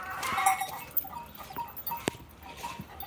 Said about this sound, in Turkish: Burada benim gariban anamın koyunları.